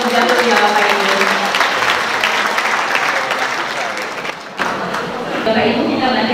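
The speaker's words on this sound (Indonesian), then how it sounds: "Boleh kita kasih aplaus yang meriah terlebih dahulu ya Bapak Ibu." Loud, sustained clapping from the audience at a church liturgy gathering, thinning out briefly near the end before picking up again, with voices under the applause.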